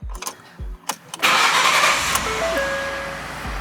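Several clicks and short thumps come first, then a car engine cranks and catches, settling into a loud, steady idle with a few faint electronic beeps.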